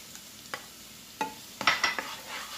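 Onion softens in a pan for a minced-meat okra stew, giving a quiet sizzle under several close scraping strokes of a spoon stirring it, with no talking.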